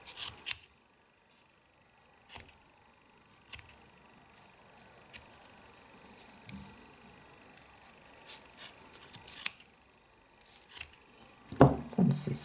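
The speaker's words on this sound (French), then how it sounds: "Maintenant, je vais venir couper les côtés." Scissors snip through the yarn sides of a knitted baby bonnet, a series of crisp close cuts spaced irregularly with quiet pauses between them.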